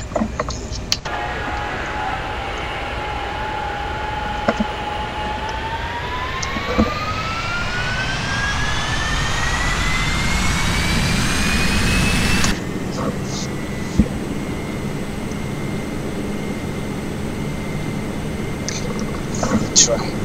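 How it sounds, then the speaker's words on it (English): Jet airliner engines spool up for takeoff from London Heathrow in the X-Plane 10 flight simulator game, a loud steady roar whose whine climbs in pitch before cutting to a lower steady hum, with someone talking intermittently over it. "We're trying to lift off at around 140 knots, as you can see, rapidly losing speed."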